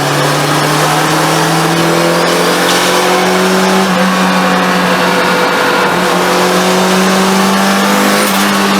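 A turbocharged drift car engine revs hard and holds high, loud and close, with a steady droning note that climbs and dips slightly, and faint tire squeal in the background.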